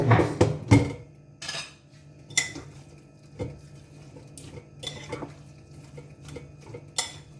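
Ground beef with vegetables and tomato sauce is turned in an air fryer basket, a utensil scraping and clinking against metal in sharp, irregular knocks and clatters, loud at first then lighter and spaced out, close up with no talk.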